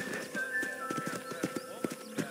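Horse hooves clip-clop in a steady rhythm over a soft musical background in the Red Dead Redemption remaster video game, with a faint whinny, the clopping close and moderately quiet.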